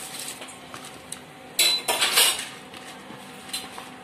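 Rice poured into a pot of boiling water while making Shahi Zarda gives a couple of loud, rattling, hissing bursts with faint clinks of cookware, then quieter bubbling.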